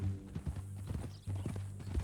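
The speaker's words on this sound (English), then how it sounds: "That a new horse?" Horse hooves clip-clopping in the Red Dead Redemption 2 epilogue, a steady rhythmic clatter of hoofbeats close by with a low droning hum underneath and no talk.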